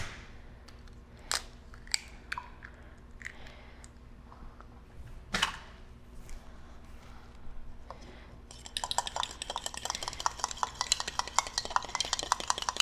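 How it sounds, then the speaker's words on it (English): Spoon stirring tuna burger ingredients with an egg and Italian seasoning in a bowl, heard as scattered soft scrapes and knocks, then a dense run of quick clattering mixing strokes toward the end. "you're gonna mix that all together and just throw that in"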